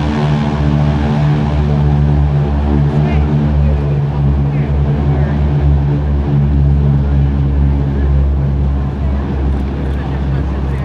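GEICO Skytypers vintage propeller airplanes taking off at an air show, a loud, steady multi-engine drone holding for the whole stretch, with a voice talking over it.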